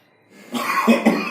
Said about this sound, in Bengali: এই কাল রাত থেকে হঠাৎ করে এই কাশিটা শুরু হয়েছে